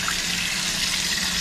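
Tap water running steadily while lamb tripe is washed under it, a close, constant splashing hiss with no pauses.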